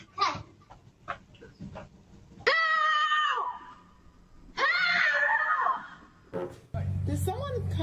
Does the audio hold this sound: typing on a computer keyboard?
no